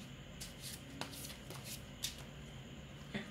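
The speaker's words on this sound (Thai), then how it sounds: "อยากสับให้ดัง เสียงมันเข้าแล้วมันจะหนวกหูอ่ะ" Soft, faint riffling of a tarot deck being shuffled by hand, a continuous papery flutter with a few light taps of cards knocking together.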